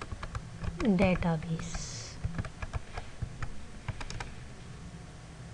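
Computer keyboard typing while writing SQL commands, a string of quick close clicks scattered across several seconds, with someone speaking briefly over the start.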